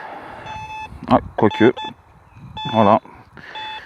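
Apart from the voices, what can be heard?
metal detector beeping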